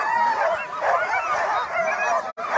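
Sled dogs bark and yip excitedly at the start of the Knik 200 mile dog sled race, a dense, continuous near chorus with no pauses except a brief dropout near the end.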